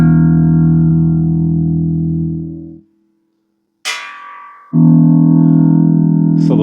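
A home-built electric bass guitar, played through a guitar amp with reverb, rings out in loud sustained low notes that die away into a short silence. A brief higher twang follows before another strong, steady bass note returns.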